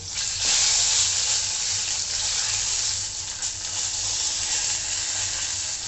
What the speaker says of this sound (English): I'll take the spoon now. Mix it nicely.